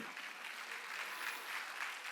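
A church congregation applauds at a Sunday service, a dense, even patter of many hands clapping at a moderate distance, steady for about two seconds.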